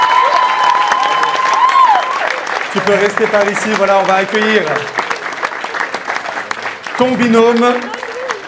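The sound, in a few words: audience applause for a model contestant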